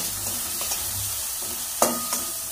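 Ingredients for a methi palak dish sautéing in a pan: a soft continuous sizzle with a few stirring scrapes and one sharper clank near the end, close and alone without speech.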